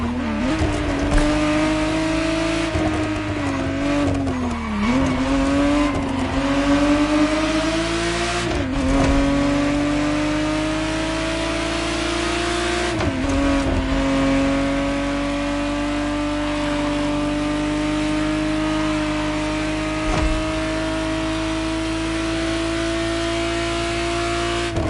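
A 1991 Ferrari Testarossa in The Crew Motorfest revs hard, its engine pitch climbing and dropping with several gear shifts, then holding a long sustained high-revving howl, loud and close with no voices.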